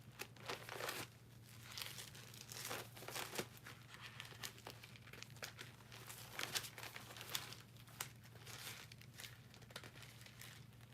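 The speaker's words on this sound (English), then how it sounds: "You really gotta be careful turning the pages with this." Thin Bible pages being turned, a quiet scattering of soft crinkles and papery rustles that comes in small bursts over a low steady background hum.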